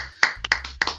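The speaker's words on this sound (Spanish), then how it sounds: "un aplauso para ustedes" A few distinct hand claps ring out close by, roughly four sharp strikes in about a second, sounding more like a small handful of people clapping at a Spanish-language talk than a full crowd.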